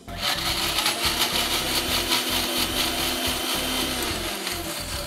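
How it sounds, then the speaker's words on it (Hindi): A mixer grinder blends roasted tomatoes and garlic into a chutney with no water added, giving a loud, steady whirring grind with gritty rattling that runs unbroken and close by. "करना सिर्फ इतना है कि इसको आपने मिक्सी में पीस लेना है।"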